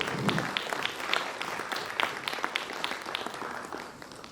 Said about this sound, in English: Please clap for this.